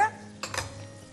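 Pots and a pan clanking while being handled in a kitchen, two quick close metallic knocks in a short, quiet moment after a brief bit of voice.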